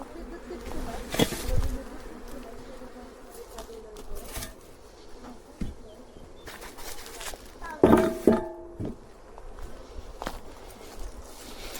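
Honeybees buzz throughout as a colony is moved from a nucleus box into a full-size hive, a steady insect drone with scattered handling knocks and a few louder close passes near the microphone.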